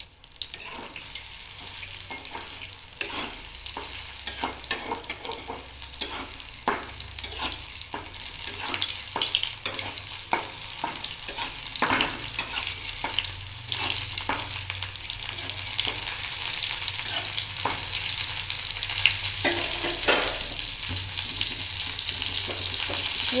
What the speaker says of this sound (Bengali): এক এক করে এইভাবে সব ভেজে নেব।